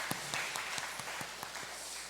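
A church congregation claps in praise, a faint, fairly even ripple of applause at a distance with regular clap peaks.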